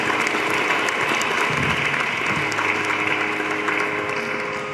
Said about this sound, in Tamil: ஒரு கைத்தறல் கொடுக்கலாம்.